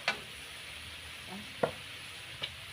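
Pad Thai sauce with dark soy sauce sizzles and reduces in a pan, a faint steady hiss with a few soft stirring scrapes and clicks.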